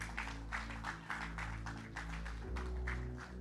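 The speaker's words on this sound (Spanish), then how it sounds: "Dale un fuerte aplauso a tu Dios" Church congregation applauding God with rhythmic, regular clapping in bursts at roughly steady intervals, sounding over sustained organ or keyboard chords.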